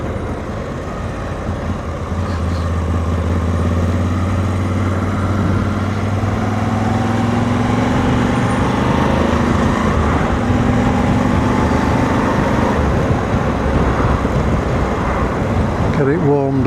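Moto Guzzi V85TT motorcycle fitted with a decat exhaust idling while warming up before a road test, a steady low engine drone with faint rising tones and no talking over it.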